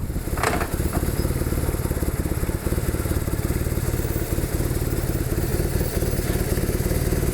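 A BMW R1100RT motorcycle engine runs loudly and steadily close by, with a rough, throbbing idle and a brief rev near the start.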